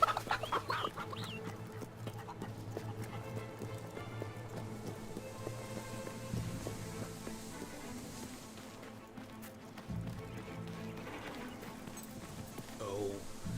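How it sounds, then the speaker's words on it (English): Chickens in Fable 3 clucking in a steady stream under background music and ambient game noise, with a voice speaking over the scene. "Somehow the gate got open, and all of my chickens have escaped."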